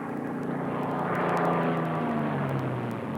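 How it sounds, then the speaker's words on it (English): A WWII-era warbird propeller plane diving, its engine roar loud and steady throughout, with a broad droning tone that shifts slightly in pitch as it gains speed. "Plane gains speed extremely fast in a dive."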